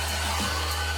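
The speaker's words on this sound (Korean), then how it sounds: "고개 숙여주시고 드라이기 해주시는데" A hair dryer blows steadily on hair extensions with an even, close whooshing roar and a low motor hum, and the sound stays constant throughout.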